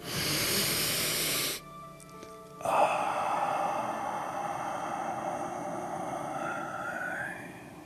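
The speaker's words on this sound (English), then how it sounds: "We're going to take 3 nice deep breaths in, exhaling through our mouth" A deep breath drawn in through the nose, then a long, airy exhale through the mouth, close and loud during a guided sunset energy session; a soft tonal hum lingers underneath.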